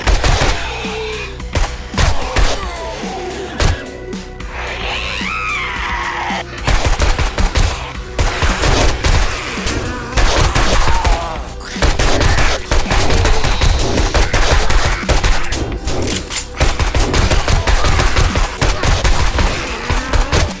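Machine gun blazing in the zombie survival game 7 Days to Die, long loud rapid-fire bursts that stop briefly and resume, close and dominant throughout.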